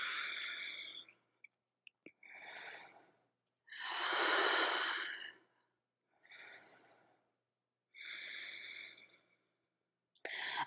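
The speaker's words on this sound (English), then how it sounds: "Breathe here." Deep breathing during a yoga flow: slow, loud, airy inhales and exhales close to the microphone, one long breath in the middle and shorter ones around it, separated by silence.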